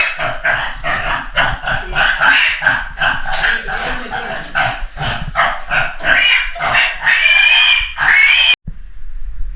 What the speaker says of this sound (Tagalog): Ayan po mga kabayan, yung nabili naming baboy ni Lloyd kahapon.